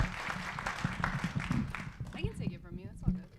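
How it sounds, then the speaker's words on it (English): A university event audience applauds after a spoken-word performance, a patter of clapping in the first half, then a voice talking over fading claps. "Huge round of applause."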